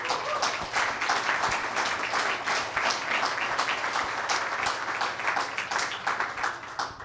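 An audience claps steadily and densely for about seven seconds, a continuous close wash of hands with a faint low hum running underneath.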